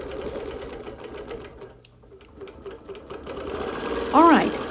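A sewing machine runs steadily through free-motion quilting of leaf shapes, a close, rapid mechanical stitching hum. It pauses briefly and then resumes, with a voice talking over it.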